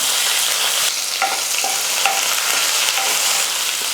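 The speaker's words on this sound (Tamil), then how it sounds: "வெங்காயம் வந்து நல்லா கொஞ்சம் கலர் மாறுற அளவுக்கு நல்லா வதக்கிக்கலாம்" Loud, steady sizzling of small onions and curry leaves sautéing in hot oil for sambar, with a few light scraping stirs against the pan.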